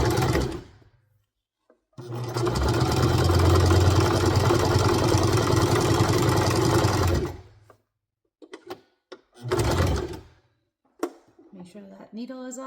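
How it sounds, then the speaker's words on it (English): A sewing machine back stitches fabric for bloomers in a zigzag stitch, a loud continuous mechanical whirring run of about five seconds, followed by a short second burst, with a voice speaking at the end. "I'm gonna back stitch a little. Do a little back stitch."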